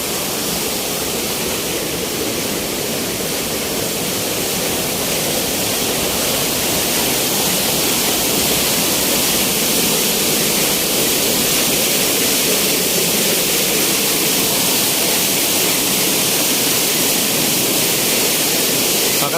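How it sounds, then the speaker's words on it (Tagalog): Pyalitan Falls, a tall waterfall, pours in a loud, dense, unbroken roar of rushing water close by, steady for the whole stretch with no talk above it. "Yan ang falls dito."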